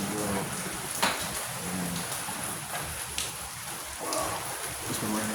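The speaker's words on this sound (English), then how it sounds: "it's been raining hard like this" Heavy rain pours steadily on a rainy day near a garage, a dense continuous hiss with scattered louder drops, while a voice speaks briefly over it.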